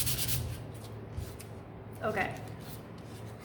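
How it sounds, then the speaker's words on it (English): Quiet hand sanding of a wooden pumpkin barn craft piece: soft, scratchy rubbing strokes close by, with a brief spoken word partway through. "So I'm just gonna quickly finish sanding this"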